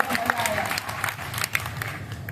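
Audience applause at a kavi sammelan poetry gathering in Sojat, a dense, steady patter of many hands clapping throughout with faint voices mixed in.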